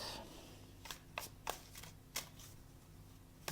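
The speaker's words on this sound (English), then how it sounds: "let me shuffle a little bit" A deck of cards being shuffled in short bursts, several crisp riffling rustles spaced apart over a faint steady background hum, close and fairly quiet.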